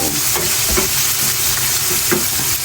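Shrimp being stir-fried for chopsuey in a pan, a loud, close, continuous sizzle with a few quick spatula scrapes and taps cutting through.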